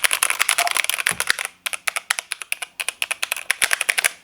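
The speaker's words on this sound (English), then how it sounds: "the keyboard itself is just a Logitech keyboard. It is a brown keyboard" A clicky Logitech keyboard with brown switches typed on at a desk, rapid crisp keystrokes in an uneven rhythm, close and loud, with a brief pause before the tapping resumes.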